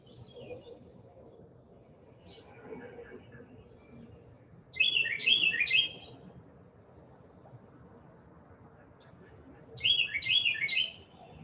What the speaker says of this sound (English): The birds are singing to us this morning.